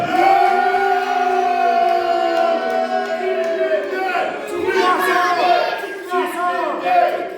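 A crowd at a Laurentide wrestling event roars and cheers for the champion, a loud, sustained wall of many voices shouting together that swells and surges throughout.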